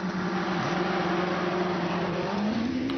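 GR59 featherweight hillclimb race car with a rear-mounted 1600cc Hayabusa engine launching off the line at a British Hillclimb Championship run-off, a loud, close, high-revving motorcycle-engine howl that climbs steadily in pitch.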